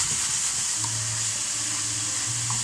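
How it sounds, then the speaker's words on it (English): Beef frying in a pan for chilli dogs, a steady loud sizzle with occasional stirring scrapes, close up and with no talking. "all we're doing now, we're just frying off this beef"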